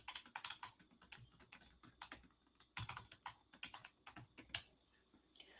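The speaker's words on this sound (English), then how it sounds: "just so that you guys don't be talking about my typing either, because I know it's a lot" Rapid, uneven clatter of typing on a computer keyboard at close range, with bursts of keystrokes and short pauses, and a brief spoken word at the start.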